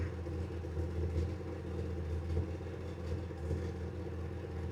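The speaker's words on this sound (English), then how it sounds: "Just sitting here and idling." A 1967 Mercury Monterey V8 sits idling, a low steady engine rumble with a faint rhythmic pulse, close and unaccompanied by talk.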